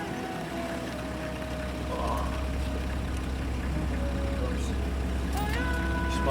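A car idles steadily after a hard start, a constant low engine drone that thickens slightly after two seconds, with faint outdoor background sounds and no talking.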